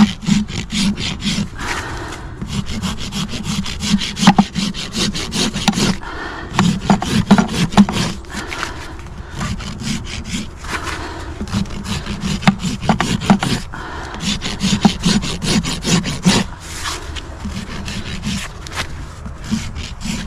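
A farrier's rasp smooths the bevel of a horse's hind hoof in repeated rhythmic rough scraping strokes, close and fairly loud, with short pauses between sets.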